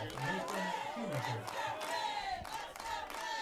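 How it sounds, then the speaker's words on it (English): Home crowd at a Big Red high school baseball regional semifinal, a sustained roar of voices with rhythmic chant-like swells, dense and moderately distant. "And the Big Red crowd's getting into it."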